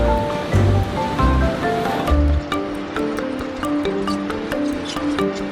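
Sewage-laden water from Taichung's Green River flows into a gravel-filled treatment pond. A steady, rushing wash continues throughout beneath soft melodic music.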